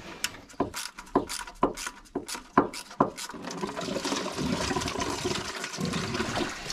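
Coolant drains out beneath a Golf GTI Trophy from the cooling system near the water pump hose. A few sharp knocks come first, then a steady, close splashing flow of liquid.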